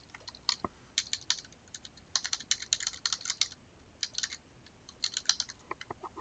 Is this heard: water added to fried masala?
no